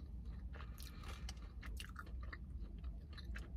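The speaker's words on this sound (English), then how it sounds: "If y'all hear me chewing loud" Close, wet chewing and crunching of Dunkin' food, steady throughout, over a low rumbling background.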